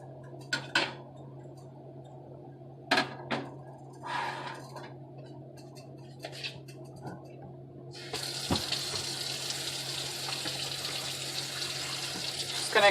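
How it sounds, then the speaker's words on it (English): After a few light clinks and knocks of a pot, water left from cooking codfish pours into a kitchen sink with a steady rushing splash that lasts to the end, close and moderately quiet. "We're going to discard that water."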